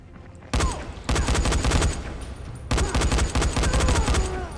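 Semi-automatic gunfire in the Dying Light video game, several loud bursts of rapid shots in two clusters with a short gap between them, close and dominant.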